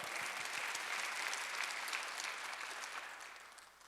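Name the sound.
congregation clapping during church service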